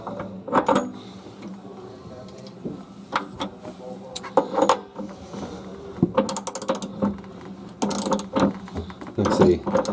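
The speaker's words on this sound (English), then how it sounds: "we want to snug it up with our ratchet" A ratchet clicks in short bursts while tightening an electric water heater element, close and crisp, with pauses between strokes and a person speaking alongside.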